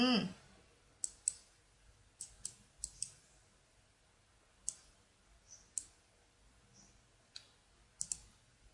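A computer mouse clicks sharply and close by, single and double clicks spaced irregularly over a quiet background.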